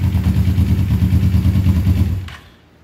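A Suzuki GS450 cafe racer motorcycle engine idles nearby with a steady, lumpy mid-range rumble, then is switched off and fades quickly to near silence.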